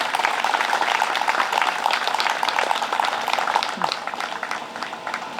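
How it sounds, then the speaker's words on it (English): Audience at a Hungry Heroes 2025 event giving a round of applause, a busy clapping crowd at moderate loudness that gradually thins toward the end. "Can I get a round of applause for them now?"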